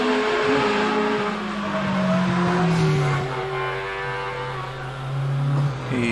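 A Ginetta race car climbing the Prescott hill climb course, its engine note rising and falling through gear changes as it accelerates past, loud and fairly close, with a steady roar throughout.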